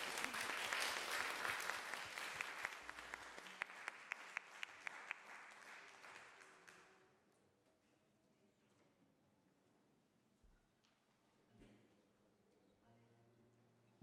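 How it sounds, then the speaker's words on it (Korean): Warm audience applause greets a performer at a museum concert of modern reinterpretations of Korean folk song, a dense crowd clapping loudly for about seven seconds before fading out into quiet room noise. "뜨거운 박수로 모셔볼까요?"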